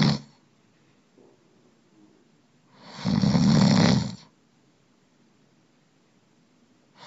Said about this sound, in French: le ronflement est un bruit rauque plus ou moins fort